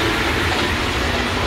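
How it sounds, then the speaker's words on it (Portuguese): A rubber-tyred Paris metro train runs past on the track, a loud continuous rushing rumble that fills the whole moment without speech. "Os trens têm pneu, ó,"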